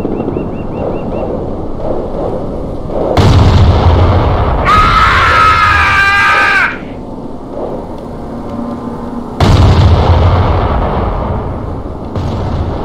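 Artillery firing in Company of Heroes, with loud booming blasts at intervals, a whistling shell between them and a low rumbling battlefield backdrop.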